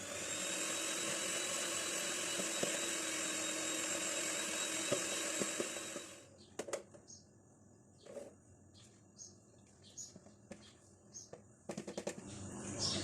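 125 grams of butter beaten in a large bowl, heard as a steady, high-pitched motor whir for about six seconds that then cuts off, followed by quieter clinks and bumps.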